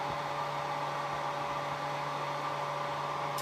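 A hair dryer blows hot air onto a doll's foot to soften it, a steady even whir with a constant hum running throughout.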